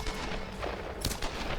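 Rapid gunfire crackles through a dense, noisy mix in the video game Tomb Raider, with sharp bursts of shots standing out at a moderate distance.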